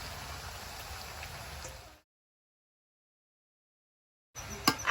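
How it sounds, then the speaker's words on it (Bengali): Potatoes sizzle in rendered oil alongside duck meat in a pan, a steady, fairly loud crackling hiss that runs unbroken for about two seconds, then cuts to silence before a brief noisy clatter returns at the end. "আলুটা আবার দিয়ে আর একটু ভেজে নিচ্ছি মাংসের সঙ্গে"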